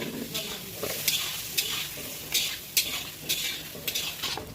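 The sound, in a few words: stirring frying mutton liver in a pan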